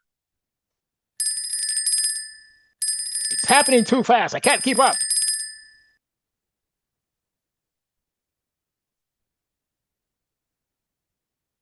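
Trading software alert chimes ring in two quick bursts of bright, repeated bell tones, overlapped by someone speaking rapidly in the middle; the chimes stop and near silence follows.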